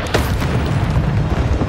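A fiery burst from the Incendio spell in a PS5 Harry Potter game set at Jackdaw's Rest in the Forbidden Forest, a loud, sustained booming whoosh with a sharp onset that roars steadily for under two seconds.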